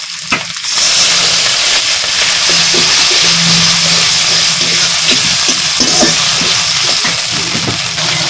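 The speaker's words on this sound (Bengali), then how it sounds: "একটু জল দিয়ে দেব," Water splashes into frying spice paste with onion and garlic for a desi shing fish curry. A loud, steady sizzle and hiss follows, with intermittent stirring scrapes up close.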